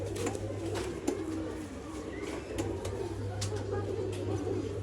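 Pigeons offered for breeding at a Bangalore bird sale coo softly and repeatedly in a steady low murmur, with a constant hum and faint background sounds underneath.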